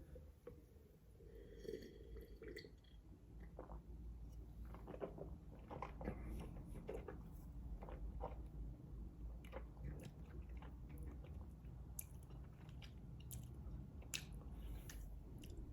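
Close, wet mouth sounds of someone sipping and tasting 1982 Château Montbrun Margaux red wine poured from a Jéroboam. Soft slurps and swishing continue steadily over a faint room background, with no talking.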